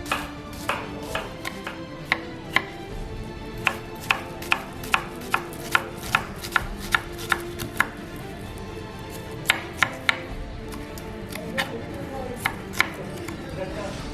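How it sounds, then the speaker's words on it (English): An onion is chopped into very small pieces with a knife on a board, sharp repeated knocks in quick irregular bursts, close and clear, with some faint background kitchen noise. "Just chops onion,"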